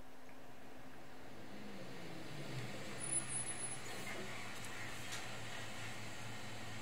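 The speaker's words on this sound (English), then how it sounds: "The sound of an engine working brought me back to reality. The bus pulled over." A bus engine idles and runs low and steady in a visual novel scene as the bus pulls over, a soft continuous rumble with a brief hiss of brakes near the middle, no talk.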